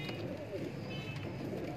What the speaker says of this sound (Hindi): ये दोस्तों माशाल्लाह जी हाई फ्लाइट कबूतर है, इंडियन दबाज कबूतर है